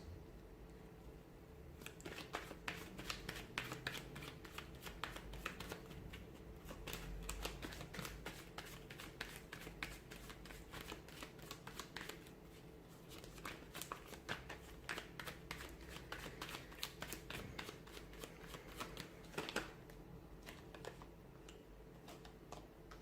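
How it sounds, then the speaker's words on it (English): Tarot cards shuffled by hand with a few slipping out of the deck, a dense run of soft, rapid clicks and riffles that carries on steadily for over twenty seconds, fairly quiet and close. "Wow. Cards are just falling out."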